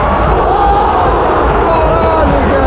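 Football supporters in a stadium at a Grêmio versus Criciúma match, a dense, loud crowd roar with chanting and cheering sustained throughout, while someone speaks over it.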